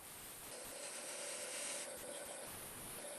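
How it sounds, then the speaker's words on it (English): A wood lathe turning a wooden yo-yo while a tool cuts a groove into its middle, giving a steady, close, continuous scraping rasp with a faint hum running underneath throughout. "I'm going right in the middle, and I'm going to put a groove in the middle"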